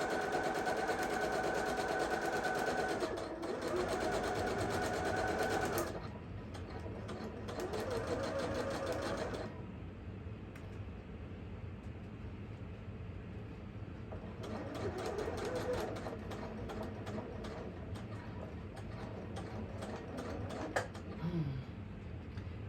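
Sewing machine stitching a front panel seam, bursts of rapid mechanical whirring that stop and restart, with quieter gaps between runs of stitching.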